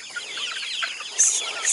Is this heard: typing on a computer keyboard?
no